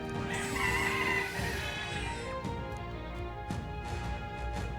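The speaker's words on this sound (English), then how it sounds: "Is this one of the strange birds we heard about?" A strange bird monster in the video game Metaphor ReFantazio lets out a loud, crowing cry that rises and fades, followed by lingering echoing calls under background game ambience.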